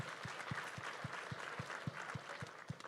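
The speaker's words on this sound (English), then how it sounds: "If you would please give all 10 of those auctioneers a big round of applause." A crowd at a live auctioneer championship applauds ten auctioneers, a steady wash of clapping that carries through from start to finish with rhythmic low thumps beneath it.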